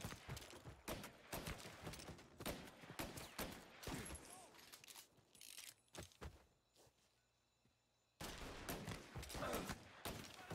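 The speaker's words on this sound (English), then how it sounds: "Gunshots heard. Please respond." Rapid volleys of gunfire crackle in bursts with a short lull, loud and close, in a shootout in the video game Mafia: Definitive Edition.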